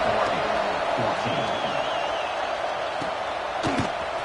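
A stadium crowd in the Madden 24 football video game roars steadily, with scattered whoops and a few sharp impacts, under a commentator talking before a kickoff.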